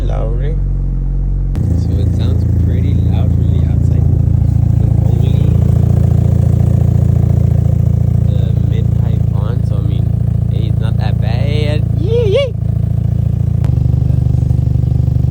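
A Hyundai Elantra N fitted with only a titanium mid pipe cranks and fires up, then holds a loud, deep, rumbling idle with a few sharp revs, while people talk over it.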